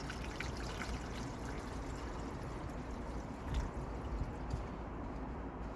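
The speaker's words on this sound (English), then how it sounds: "I'm just going to put a little bit of deionized water in" Deionized water trickling and splashing steadily as it is poured into the cooling system of a Mazda MX5 NC Mk3, a continuous close pour with a few small splashes near the end and no voices.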